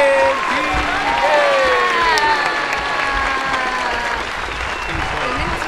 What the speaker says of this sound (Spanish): preparamos esos aplausos